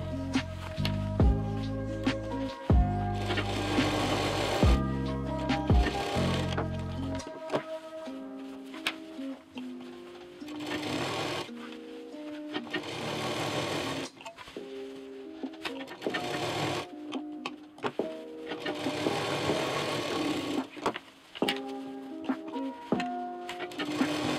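A sewing machine stitching together a square fabric bag, its rapid mechanical needle rattle running in repeated bursts that stop and start, with short pauses and light handling clatter between runs, fairly close and clear.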